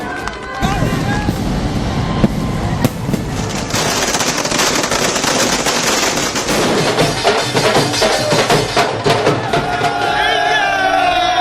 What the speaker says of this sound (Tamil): ரசிகர்கள் நள்ளிரவில் ஆட்டம் பாட்டத்துடன் பட்டாசுகள் வெடித்து ஆரவாரம்